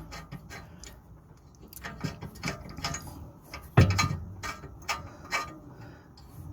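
Ratchet wrench loosening a rear brake caliper bolt on an Audi A3 or RS3, a run of close, quick clicks with one sharp louder knock midway, no one speaking.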